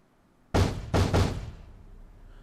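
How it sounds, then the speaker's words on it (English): Three heavy knocks pound on a run-down apartment door in the game 428: Shibuya Scramble, one blow then two quick ones, loud and close with a short booming decay and no talk. "The door looked like it might fall apart at any moment, but Minorikawa didn't care. He pounded on it as hard as he could."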